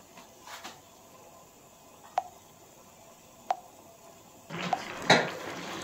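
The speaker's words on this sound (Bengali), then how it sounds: "আমি ঢাকা দিয়ে দিলাম আর আঁচটা একদম সিমে দিয়ে দিলাম।" A metal lid set onto a pot of small fish curry on a gas stove, heard as a few sharp clinks and a brief clattering rattle near the end, close and fairly quiet over a soft background hiss.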